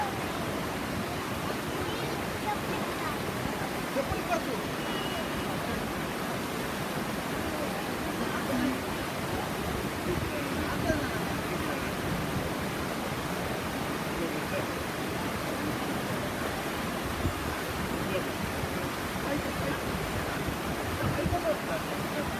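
Kothapalli waterfall near Paderu, which tumbles between hills, makes a steady, dense rush of falling water that holds at an even level for the whole stretch.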